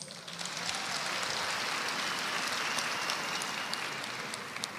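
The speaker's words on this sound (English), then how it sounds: "let's give Ukebi a big round of applause" A crowd at a memorial service for Mandoza applauds a singer, with broad, even clapping that stays steady and moderately distant across the whole stretch.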